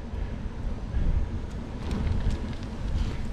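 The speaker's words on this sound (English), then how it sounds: "It's still windy." Wind buffets the microphone on a canal-side bike trail, a steady low rumbling roar with gusts swelling and easing, with no other sounds.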